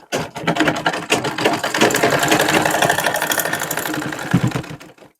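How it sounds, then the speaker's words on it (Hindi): A non-motor sewing machine runs a straight stitch on a suit, with a close, rhythmic mechanical clatter that runs steadily for about five seconds before stopping. "यहाँ पे एक सीधी सिलाई चलानी है पहले"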